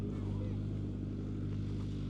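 A tractor on a strawberry farm in Leicester gives a steady, close engine drone with a firm low hum that holds unchanged throughout.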